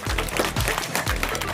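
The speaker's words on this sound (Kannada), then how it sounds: "ದಯವಿಟ್ಟು ಮಕ್ಕಳೆಲ್ಲ ಜೋರಾಗಿ ಚಪ್ಪಾಳೆ ಹೊಡಿಬೇಕು" Children clap together at a hair salon's 25th anniversary celebration. The applause is close and brisk, with a few voices briefly rising over it.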